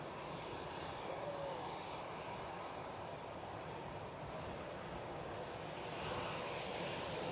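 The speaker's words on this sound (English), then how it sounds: "the KLM A321 Neo, just touching down" Faint, distant and steady, a KLM Airbus A321neo touches down at Manchester Airport, its engine noise a soft continuous rumble with a slight swell near the end.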